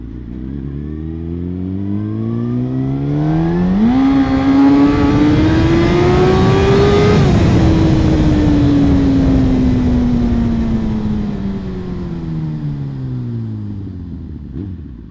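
A motorcycle engine hums steadily on a short ride, then climbs sharply in pitch as it accelerates, holds a high whine, and slowly winds back down, loud and close throughout.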